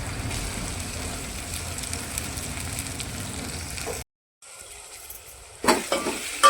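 Tomatoes sizzle steadily in a pan of hot oil for spicy Kolhapuri misal, a dense hiss that cuts out briefly, then returns with sharper bursts of spatter near the end.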